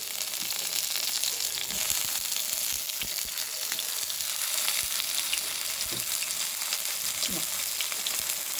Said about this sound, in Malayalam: ഞാൻ പാൻ വെച്ച് ചൂടായിട്ടുണ്ട്, വെളിച്ചെണ്ണ പിടിക്കുവാണേ.